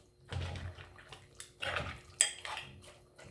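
Thai green seafood curry stirred in a pan, a few scraping and clinking strokes of a utensil against metal with brief pauses between them, close and fairly quiet, no talking.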